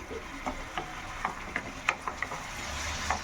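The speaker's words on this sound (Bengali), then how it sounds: "এবার এসব মশলারে ভাজা করে নেব" Spices and tomato frying together in oil in a pan, with soft sizzling and a scatter of light scraping and clinking taps from stirring, recorded close and fairly quiet.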